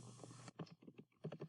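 Keys clatter on a computer keyboard while a search question is entered, a dense burst of clicks followed by a few separate taps, close and fairly quiet, with no talking.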